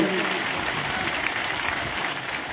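Crowd clapping at the Chandaneswar temple fair, a Shiva temple Chadak mela in Jaleswar, Balasore: a dense, steady wash of applause that holds at an even level for the full stretch, with no pauses.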